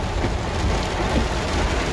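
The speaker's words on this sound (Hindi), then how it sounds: "ये देखें कैसी बारिश आ रही है" Heavy record-breaking rain pours down over a Dubai street, a dense, constant roar of downpour on pavement and surfaces that stays loud and unbroken from start to finish, with no voices over it.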